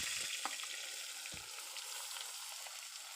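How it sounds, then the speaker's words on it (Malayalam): Six medium onions, sliced, frying in a hot pressure cooker, giving a faint, steady hiss with a couple of soft low knocks early on. "ഒരു ആറ് മീഡിയം സൈസ് സവാള സ്ലൈസായി അരിഞ്ഞത് നമുക്കിതിലേക്ക് ഇട്ട് കൊടുക്കാം"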